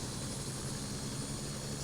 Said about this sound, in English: you are going to hear motor noise that represents the starting success of the engine